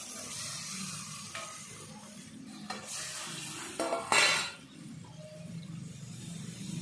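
A cauliflower and egg curry sizzles and is stirred in the pan, then warm water goes in with a sudden loud surge of hissing that fades back to a gentle bubbling sizzle.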